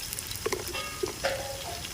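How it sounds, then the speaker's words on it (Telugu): Ginger garlic paste sizzles with onions in a pan for a country chicken curry, a soft steady frying hiss broken by small pops and crackles. "ఉల్లిగడ్డ ఎగిపోయింది నేను అల్లం వెల్లిగడ్డ పేస్ట్ వేసుకుంటున్నా"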